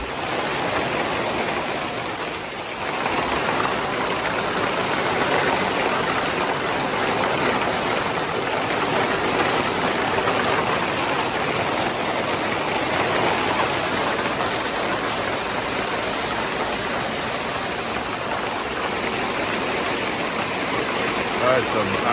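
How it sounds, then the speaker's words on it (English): Heavy hail pounds steadily down on a garden plot on a wet May day, a dense, continuous loud clatter and hiss that holds for the whole stretch. "That's some angry hailstorm."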